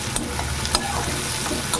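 Chopped onions frying lightly in oil for a catla fish curry, with a steady soft sizzle and a few quiet clinks of stirring, no talking.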